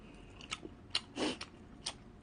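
Close, soft chewing of cheese-topped convenience-store tteokbokki from GS25, heard as a few separate wet bites and crunches spread over two seconds in a quiet room.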